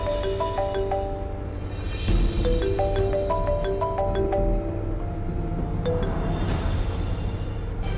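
A phone ringtone plays a repeating melodic tune over and over, ringing on without being answered, steady and fairly clear against a low background hum.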